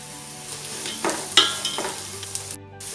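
Onions go into hot coconut oil in a vessel and fry with a steady hiss, broken by a few sharper crackles and spatters and a short scrape of stirring, close and alone with no talk.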